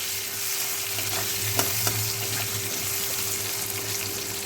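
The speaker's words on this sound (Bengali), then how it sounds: "স্বাদ মতো নুন হলুদ দেব হলুদও দিলাম দিয়ে একটু ভালো করে ভেজে নেব লালচে করে ভেজে নেব আলুগুলোকে" Potatoes fry in a pan with salt and turmeric, a continuous mid-level sizzle with a couple of sharp clicks from stirring.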